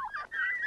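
Turkeys gobbling on a rural farm where the birds are herded to graze on hillsides, a short burst of several rapid, warbling gobbles heard close and fairly loud, with no talk.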